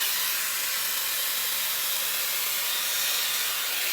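A hair dryer blows a steady, loud hiss of airflow, unbroken throughout with no voices.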